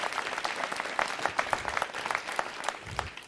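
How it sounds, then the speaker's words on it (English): An audience at a city council meeting applauds to honour a retired Army colonel, giving a dense, steady burst of clapping from many hands in a meeting room. "Give him a round of applause for that service."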